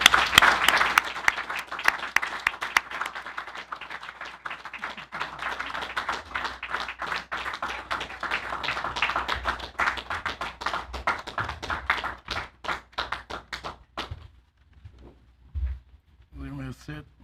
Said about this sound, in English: I want to give him a round of applause, the most selfless man that I've ever known